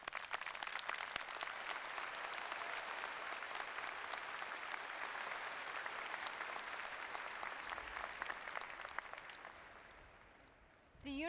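Sustained audience applause fills a university commencement ceremony in an indoor hall, with dense clapping steady for about ten seconds before tapering off at the end.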